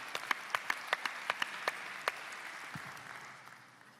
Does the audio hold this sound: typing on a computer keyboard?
no